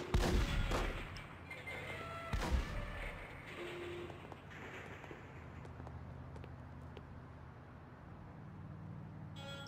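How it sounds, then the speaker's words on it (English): Gunfire in The Godfather video game, several heavy booming shots in the first few seconds, then a lingering rumbling tail and faint scattered pops in the background. "I hear gunshots"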